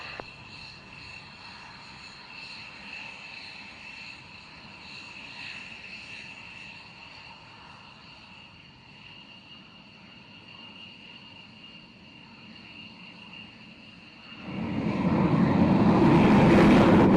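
A military aircraft takes off at RAF Waddington: a steady, distant engine whine and drone that suddenly swells into a loud, broad roar in the final seconds.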